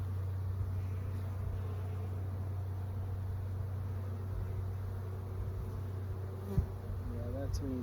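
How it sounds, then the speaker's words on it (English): A steady, dense hum of many honeybees buzzing close by on a hive frame, continuous and even throughout with no talking. "lots of bees hanging out on the bottom of the frame"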